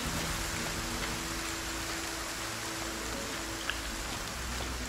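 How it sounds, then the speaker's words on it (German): Steady rain falls in the video game Force of Nature II, a constant even hiss of drops that holds through the whole stretch with no talk over it. "Also wenn es so regnet, dann wirklich immer nur ganz kurz."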